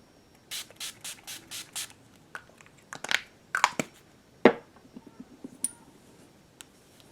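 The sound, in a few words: makeup setting spray spritzing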